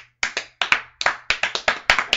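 A slow clap of about eleven separate, close handclaps comes at a loose, unhurried rhythm, each a sharp crack with short gaps between.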